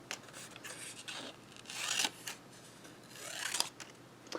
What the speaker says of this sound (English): I'm cutting out a strip about, I guess, 2 inches wide